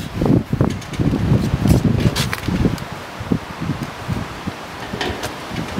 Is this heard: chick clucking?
no